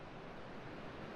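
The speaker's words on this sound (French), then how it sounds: "Il y a la cascade que tu peux entendre en fond." Steady, broadband rush of a waterfall in the background, even and continuous with no breaks, sounding like constant falling water with no voices.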